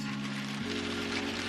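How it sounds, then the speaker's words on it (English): Hail falls steadily at a drifting event in a snowy highland setting, a dense continuous patter on surfaces, with a low droning hum running underneath throughout. "It is hailing."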